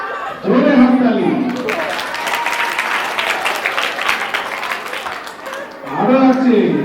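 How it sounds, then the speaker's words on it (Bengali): A school audience at a village cultural function claps loudly and steadily for several seconds, a dense burst of applause framed by a person speaking over a microphone at the start and end. "জোরে হাততালি।"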